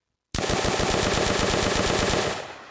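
Rapid automatic gunfire in an Unreal Engine Nazi Zombies shooter game, a loud sustained burst of evenly spaced shots lasting about two seconds after a brief silence, then cutting off with a short tail.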